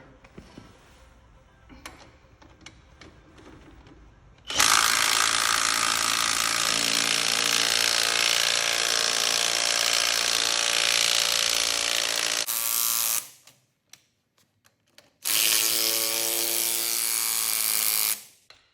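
Klein impact driver tightening a fastener during a torque test, a loud close rapid hammering ratchet running for about eight seconds, then a short pause and a second few-second burst, with quieter handling clicks before.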